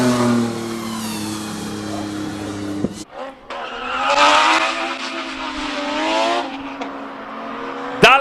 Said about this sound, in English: It is the Porsche GT3 and he's not afraid to drive it properly